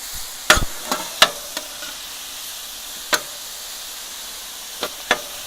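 Ribeye is mixed on a converted Weber Spirit griddle. Several sharp spatula scrapes and clacks come in an irregular cluster early, then a few isolated ones over a faint background sizzle.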